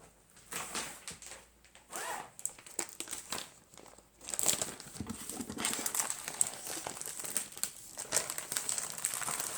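Craft supplies are stuffed into a plastic bag, with dense, close crinkling and rustling that starts in scattered bursts and then becomes steady and continuous.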